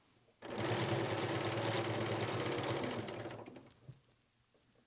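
A sewing machine stitches quilt binding in one steady, loud run of rapid whirring that lasts about three seconds before winding down and stopping, with no voices.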